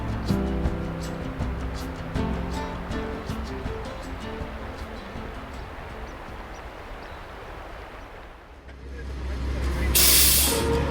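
Tour bus in Yosemite heading up into the mountains, a steady low engine drone and road rumble throughout, ending with a loud hissing release of the air brakes.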